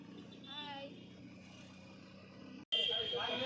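An auto rickshaw ride, a steady engine drone and road rumble throughout, with a brief cutoff near the end followed by a louder, brighter stretch of motor and traffic noise; people can be heard talking faintly.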